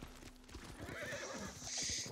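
Horse in Ghost of Tsushima neighing with a rising, bright whinny near the end, over steady clip-clop hoofbeats throughout, fairly loud and close.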